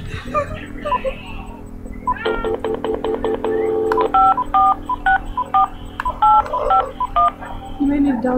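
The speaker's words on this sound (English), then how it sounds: "You may need to dial 276." Telephone dialing tones for a prank call: a quick run of sharp DTMF keypad beeps in irregular rhythm, close and loud, with a cat meowing and people talking around them.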